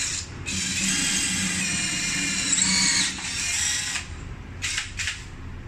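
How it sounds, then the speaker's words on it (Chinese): A brushless cordless drill bores into a wall, giving a steady, loud high-pitched whine with a grinding rasp and brief pauses and restarts, with no talking over it. "像我用这个手电钻钻墙"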